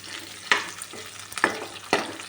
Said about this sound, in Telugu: ఉల్లిపాయ తెల్లగడ్డలు ఎండుమిర్చి కరివేపాకు తాలింపు గింజలు పోపులో వేసాము